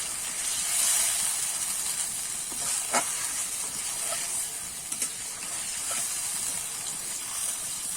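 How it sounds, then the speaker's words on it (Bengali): Pureed tomato paste frying in an open pan for a pointed gourd curry, giving a steady hissing sizzle throughout with a few faint scrapes and clicks, alone without talk. "এবার কিন্তু আমি ভালো করে কষাতে থাকবো"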